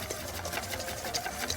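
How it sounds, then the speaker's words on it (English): An electric mixer whips batter made with flour, milk and vanilla, giving a continuous, steady whirring buzz that stays close and even throughout with no talk. "Now we're going to whip this together, and you'll see how it starts to get nice and creamy."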